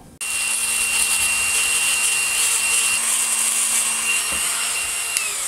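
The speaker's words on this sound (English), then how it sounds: "So I'm refining the shape a little bit with the Dremel tool" A Dremel rotary tool grinds and shapes metal wings for a topwater crawler fishing lure with a steady, high-pitched whine that holds for several seconds, close and uninterrupted.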